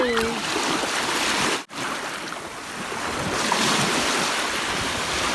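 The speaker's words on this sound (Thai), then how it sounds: "นั่งฟังเสียงทะเลอ่ะ" Sea waves wash onto a beach in a steady, broad surf roar with wind buffeting the microphone, holding continuously with a brief dropout near the start.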